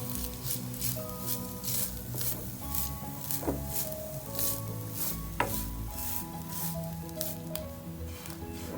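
Grated coconut and fennel seeds roasting in a pan for a raw mango prawn curry give off a steady close sizzle with stirring scrapes and occasional sharp clinks, no voices.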